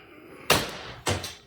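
Two sharp, loud airgun shots from a test of a barrel with an open breech, each a sudden broadband crack that trails off, spaced about half a second apart.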